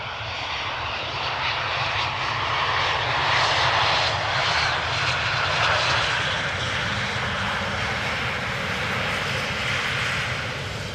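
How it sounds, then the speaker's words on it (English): KLM Embraer 190 airliner in SkyTeam livery on approach to land at Amsterdam Schiphol, a steady, loud broadband jet roar with a low rumble that swells slightly mid-pass and holds throughout, with no voices. "This is a KLM Embraer 190 in the SkyTeam livery that is approaching from Stavanger"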